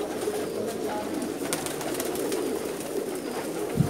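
Pakistani fancy pigeons, including Teddy Rampuri birds, coo softly and continuously close by in a loft, a low rolling murmur of several birds with a faint thump at the end.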